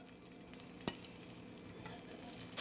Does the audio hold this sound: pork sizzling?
yes